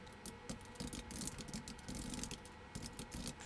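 Quick, irregular keystrokes on a computer keyboard as someone fills out a web form for an SQL database, a steady clatter of close, moderately quiet clicks with no talking.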